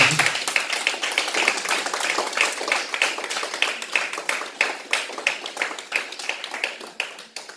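A church congregation applauds during a worship service, a dense, steady clapping from many people that goes on for several seconds with slight rhythmic pulses.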